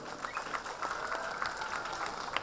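An audience claps at a college annual day function, a steady patter of many hands that keeps up at moderate volume for a couple of seconds.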